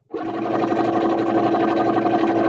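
A sewing machine runs at full speed on its medium setting while sewing fat-quarter fabric for a hair scrunchie. It starts suddenly and holds a loud, steady, close-up whir throughout.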